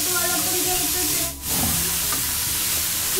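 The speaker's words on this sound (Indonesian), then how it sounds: "Di sini kita hanya menumisnya sebentar sampai kates agak lembut" Grated papaya sautéing briefly in a pan for pempek, a loud steady hiss and sizzle with faint stirring scrapes, dipping for a moment before continuing.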